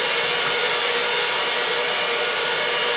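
Electric mixer whipping cream at medium speed, a steady, even whirring hum that runs unbroken and fairly loud from start to finish.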